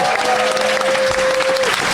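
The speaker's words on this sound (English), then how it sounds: "Big round of applause for my panelists here." A crowd applauds panelists at the close of a fantasy-fiction panel, a loud, continuous wash of clapping with a sustained tone and a voice faintly audible over it.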